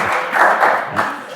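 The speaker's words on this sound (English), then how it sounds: "a round of applause" Brief applause from a forum audience at a food-industry innovation panel, a short burst of clapping that swells and dips over little more than a second.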